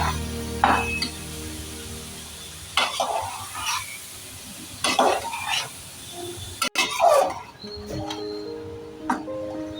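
Carrot halwa being stirred in a pan, with soft scraping strokes and a light sizzle that come in several separate bursts, a clink near the end, and quiet gaps between them.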